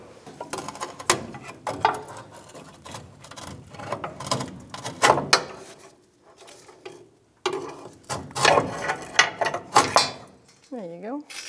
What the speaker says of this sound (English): I just have to get a pry bar, pry down a little bit on this